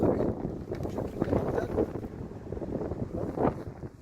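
Strong gusts buffet an outdoor microphone during an oil change in bad weather, a loud continuous rumbling roar that swells and dips throughout.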